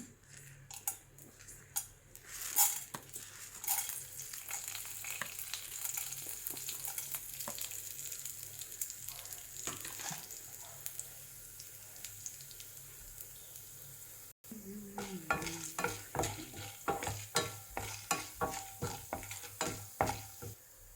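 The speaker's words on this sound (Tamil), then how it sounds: "ஒரு பேனில் கொஞ்சமாக ஆயில் விட்டு கடலைப்பருப்பும் உளுந்தும் முதல்ல போடுறேன்" Chana dal and urad dal frying in a little oil in a pan, a steady close sizzle with crackling pops throughout and spoon scraping that grows more rhythmic toward the end.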